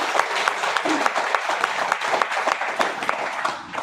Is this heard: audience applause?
yes